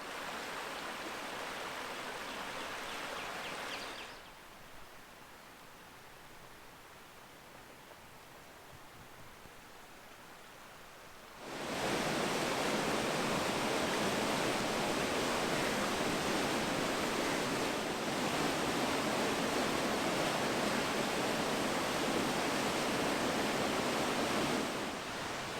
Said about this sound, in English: You couldn't really see the waterfall very much